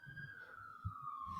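An ambulance siren in a video game sounds as a faint, steady wailing tone that slowly drifts lower, with a low rumble underneath throughout.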